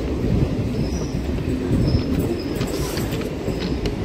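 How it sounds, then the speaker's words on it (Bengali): A train pulls in on the down line at Bagula station, a loud, steady rumble of rolling wagons with rattling wheels and faint metallic squeals throughout. "ডাউনে ট্রেন ঢুকছে"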